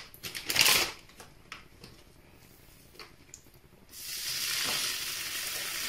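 Bacon frying in a pan for thin Irish pancakes: a few light kitchen clatters, then a steady, fairly loud sizzling hiss that starts partway through and continues to the end, with no talking.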